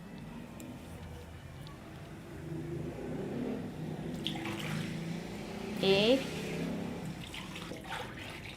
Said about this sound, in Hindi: ये 8 गिलास पानी हमने इसके अंदर डाल दिया है